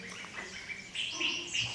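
Wild birds calling in a quiet forest of the Philippines, a few close chirps and whistled notes rising near the end, clear over faint background.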